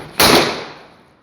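A mirchi bomb firecracker goes off on Diwali, one sharp, loud bang that trails into a fading rumble within a second.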